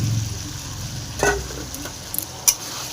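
Boiled potatoes and cauliflower stirred with spices in a hot pan, a close sizzle under a few scraping strokes and sharp metallic clicks of a spoon against the pan.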